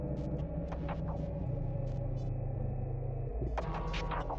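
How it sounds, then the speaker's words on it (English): Eye of the Storm, the 1X chase theme from the Roblox game Forsaken, opens with a droning low rumble under sparse, echoing high tones and then swells into a sudden bright burst. "This is Eye of the Storm, the 1X chase theme."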